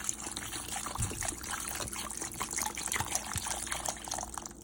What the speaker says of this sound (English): I'm just gonna put my peppers in here. I have some water. This is about a cup of water.